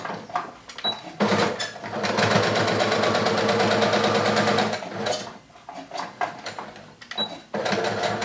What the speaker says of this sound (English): So now what I do is just sew my corners at 5/8